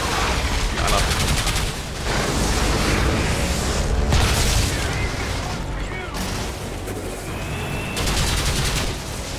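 Sustained heavy gunfire and booming explosions during combat in the video game Outriders, a dense, continuous barrage with repeated loud blasts and a voice talking over it.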